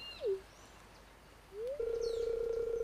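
Parrot calling in the video game Stardew Valley: a short falling chirp, a pause, then a rising whistle that settles into a long, steady, fairly loud tone with faint higher twitters, no talking.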